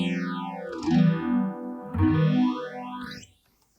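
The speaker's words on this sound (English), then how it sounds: "I do have this phaser guitar here." Electric guitar through a phaser, playing a pre-chorus part in Open G tuning: two sweeping phased chords whose tone swirls down and then back up, moderately loud, ending in a short decay.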